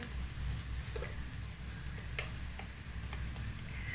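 Vegetables frying in a pan while preparing a macaroni potato tikka kabab, a steady soft sizzle with faint stirring ticks and scrapes, close and moderately quiet throughout.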